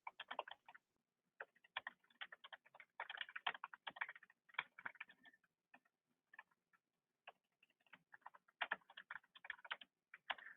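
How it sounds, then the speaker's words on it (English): Quiet, close keyboard typing in irregular bursts of rapid clicks, separated by short pauses, with no voices. "I'm typing right now, folks, because there is screen freeze."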